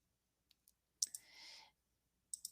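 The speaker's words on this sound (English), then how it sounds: "And then I'm going to click on Upload File." Computer mouse clicks on a desktop, two faint light taps followed later by a louder click with a brief whirring sound after it, then another pair of crisp clicks at the end.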